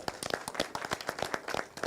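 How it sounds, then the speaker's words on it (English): Conference attendees at a biosafety meeting clap in a brief burst, a handful of distinct, close hand claps heard individually rather than as a blended roar. "Can we clap for ourselves?"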